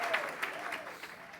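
A church congregation breaks into brisk applause during a service, with a steady wash of clapping and a few louder cheers scattered through it.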